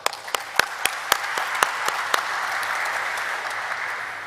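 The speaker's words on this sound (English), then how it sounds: "So a round of applause to them." An audience at a company stock-exchange listing ceremony breaks into applause, a few sharp nearby claps standing out at first before it blends into a steady wash that fades slightly toward the end.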